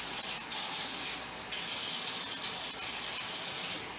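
Water from a kitchen tap runs steadily and close by while a knife is washed under it, with brief dips in the flow as the blade moves through the stream.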